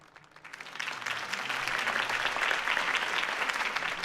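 A crowd applauds a speech for Harvey Dent's campaign in the Batman Telltale Series video game, dense clapping that swells from a soft start into sustained, loud, even applause with no one speaking over it.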